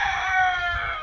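A rooster in a garden crows once, loud and close, in a short drawn-out call.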